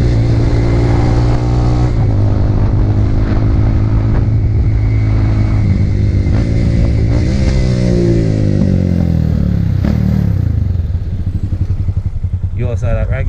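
Motorcycle engine revving loud and close as the rider rev-matches, pitch sweeping up and down through repeated throttle blips over a steady idle rumble, then settling lower near the end.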